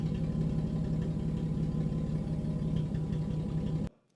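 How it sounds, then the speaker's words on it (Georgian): A car engine idles steadily, close and fairly quiet, with an even low rumble, then cuts off abruptly at the end; no voices. "ძრავი მუშაობს იდეალურად."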